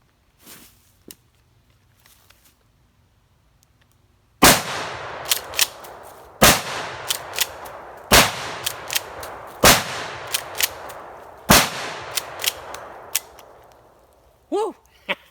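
A Mossberg 590 Shockwave shotgun fires double-aught buckshot outdoors in five loud, booming blasts about two seconds apart, each followed by metallic clacks of the pump action and echo.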